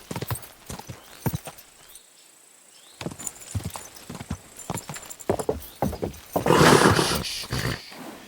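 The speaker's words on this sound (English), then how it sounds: "Easy, good horse." Horse hooves clopping in Kingdom Come: Deliverance II, an irregular run of close, sharp hoofbeats broken by a short lull, then a loud, strained neigh near the end before the clopping resumes.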